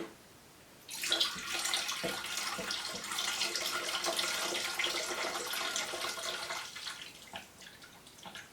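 Liquid, fat and drippings, pours steadily out of a fat separator in a continuous splashing stream for several seconds, loud and close, then tapers off near the end.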